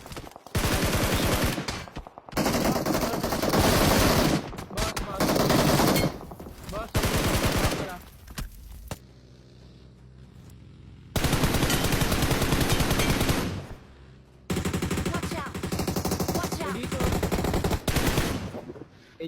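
Loud gunfire in a battle royale video game scrim: repeated rapid bursts of shots, separated by short quiet gaps, with a little talk in between.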